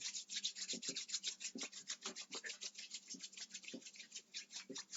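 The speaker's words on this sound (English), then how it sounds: "rub your palms together" Palms rub briskly together in a steady run of dry, rasping strokes, close and fairly quiet, with no voice over them.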